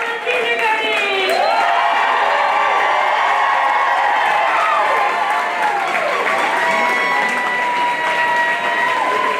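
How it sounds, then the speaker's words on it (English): School audience at a kindergarten promotion ceremony breaking into loud sustained applause and cheering, with children's shrill shouts and whoops rising over the clapping throughout. "And one big cheer for all of kindergarten."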